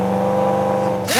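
Car engine idling with a new aftermarket exhaust, holding a steady harmonic drone close by, then a sharp rev at the end with rising pitch sweeps.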